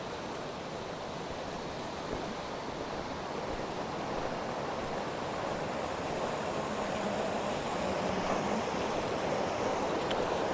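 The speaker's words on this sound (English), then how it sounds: "Hopefully you can hear me over the water here" Rushing water near a wooden bridge in snowy Norway, a loud, steady broadband roar of flowing water that continues unbroken throughout, with no voices.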